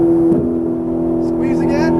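A Ferrari 458 Italia's engine holds a strong steady tone on a track as the throttle is squeezed, a voice speaking briefly over it.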